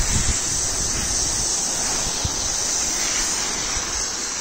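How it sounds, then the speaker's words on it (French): Water runs steadily while something is rinsed clean, a continuous broadband rush of flowing water with no break and no voices. "Allez, on rince."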